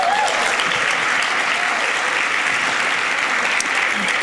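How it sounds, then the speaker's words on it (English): Steady, full applause from a crowd at an awards and scholarship ceremony, evenly sustained for about four seconds with no break. "Let's clap for that."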